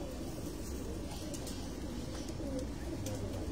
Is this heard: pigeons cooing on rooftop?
yes